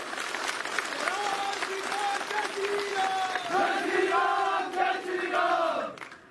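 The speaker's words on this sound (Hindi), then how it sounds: "वहां मुझे लगता कि एक बात तो ताली जरूर से होनी चाहिए।" Crowd at an outdoor political public meeting in Banikhet addressed by a chief minister, applauding loudly with sustained clapping, cheers and shouted chants rising over the claps.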